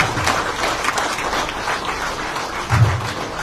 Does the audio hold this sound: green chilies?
no